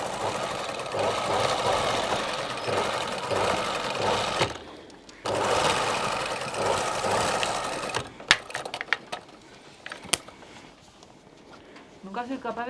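A sewing machine runs steady bursts of stitching through fabric on a large stitch setting, whirring continuously, pausing briefly, then resuming before giving way to a few clicks and handling sounds while a person talks.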